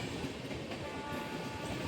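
Train arriving at Raika Bagh junction in Jodhpur, a loud, continuous rumble of rolling wagons with a faint horn tone running through it, steady throughout and with no voices.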